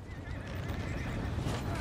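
Horses neigh and whinny amid the clatter of a Total War: Three Kingdoms battle, with hoofbeats and steady dense noise running throughout at a constant level.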